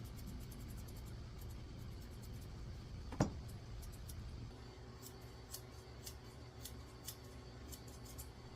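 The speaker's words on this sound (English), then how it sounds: "I'm just trimming off all those scraggly hairs between his toes" Scissors trim the scraggly hair between a Sheltie puppy's toes during its first grooming: one crisp, close snip stands out, followed by several faint, scattered clicks over a low steady background hum.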